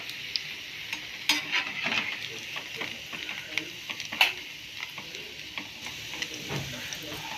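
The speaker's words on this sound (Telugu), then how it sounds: "చిన్న చిన్న ముక్కలు కాబట్టి త్వరగానే వేగుతాయండి" Small pieces frying in ghee give a steady, fairly quiet sizzle, flecked with sharp crackles and pops, with no voices over it.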